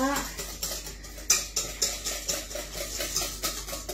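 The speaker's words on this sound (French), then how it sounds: "Allez, on remue bien ça." A shrimp and surimi mixture is stirred in a bowl, a close rhythmic run of soft scraping and clinking strokes repeating roughly twice a second.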